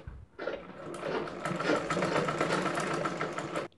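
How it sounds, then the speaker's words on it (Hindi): A sewing machine runs a continuous burst of stitching along a blouse sleeve, a close, rapid mechanical whirring rattle that starts abruptly and stops after about three seconds. "यहाँ पे मजबूती के लिए हम दोबारा एक सिलाई इसमें चला लेंगे"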